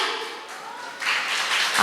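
Audience applause at a Tamil pattimandram debate show in Virudhunagar: a soft, diffuse patter of clapping that swells louder partway through and stays steady to the end.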